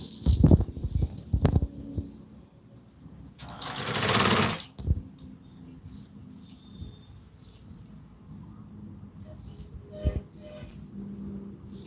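A sewing machine stitches pleats into a Patiala salwar in short, close, rattling runs with pauses between them, plus one longer, louder burst of stitching.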